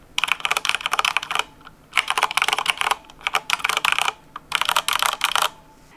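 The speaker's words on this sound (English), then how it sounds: "I have the Corsair K70, and this one has the Gateron blue switches" Rapid clicky keystrokes on a Corsair K70 mechanical keyboard with Gateron blue switches come in three bursts of fast typing separated by short pauses, close and crisp.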